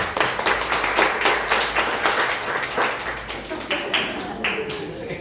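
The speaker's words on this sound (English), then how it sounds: "Please give Angie a round of applause." At a Nu Skin opportunity-sharing gathering, an audience claps for Angie, a steady run of hand claps at close range that thins slightly toward the end.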